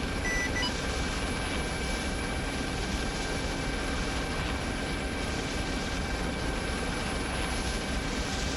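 Steady, fairly quiet helicopter rotor and engine drone in the military simulation game Arma 3, continuous and unchanging, with a couple of short beeps near the start.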